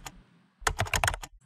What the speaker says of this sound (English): Type another space